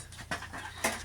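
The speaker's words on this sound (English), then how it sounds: "They're very cool, these dogs." A dog pants close by in quick, breathy puffs, with two sharper exhales standing out.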